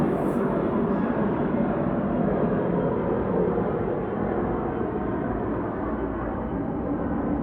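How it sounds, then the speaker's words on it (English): Steady, loud airplane noise rumbles overhead as a broad, continuous roar that barely changes over several seconds, with no talking. "I'll just wait for the plane."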